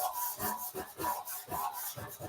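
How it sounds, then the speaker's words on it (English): Hand sanding into the fold of a motorcycle fuel tank near the weld with rolled 180-grit sandpaper, giving steady rhythmic back-and-forth rasping strokes, close and clear, with no talk. "taking some sandpaper like this, some 180. You can roll it like that, get it right down into where that fold of that tank is."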